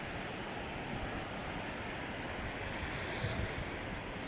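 Steady rushing surf at Varadero, Cuba, fills the whole stretch, a constant broadband wash of sea waves with no clear breaks and no voices.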